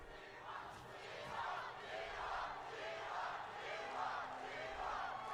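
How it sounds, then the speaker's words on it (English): Esports arena crowd chanting in rhythmic waves for the teams CFO and T1, a distant, steady roar of fans rising and falling in repeated swells. "We got fan chant leaders for CFO and T1."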